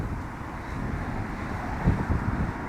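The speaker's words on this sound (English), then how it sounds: "We have got a lot of wind here" Strong wind gusting over a lake during bass lure fishing, a steady, close roar of buffeting against the microphone that swells slightly near the end.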